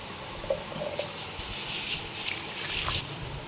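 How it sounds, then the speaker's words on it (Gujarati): Water pours and swishes faintly into pani puri mix, a soft running hiss with light splashing as it is stirred in. "તો હવે મિત્ર આમાં આપણે પાણી થોડુંક મિક્સ કરી દેવું"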